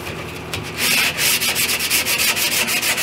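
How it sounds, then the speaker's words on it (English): Sandpaper rubs back and forth along the edge of a wooden kitchen island panel at a slight angle, a close, rhythmic series of raspy strokes after a brief quieter start. "Then I'll take my sandpaper and I'll just sand the edge at a 5-degree angle."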